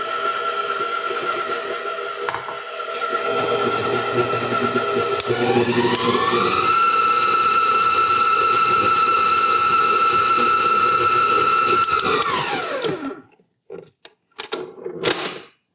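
An Aucma 8-quart stand mixer whirs steadily as eggs are mixed in, its motor pitch rising and then holding a loud, constant hum before it winds down and stops, followed by a few clunks.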